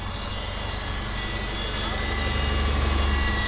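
A Subaru Outback with a newly swapped engine idles quietly at the roadside, a steady low hum and faint whine running evenly throughout, with a small radiator leak noted.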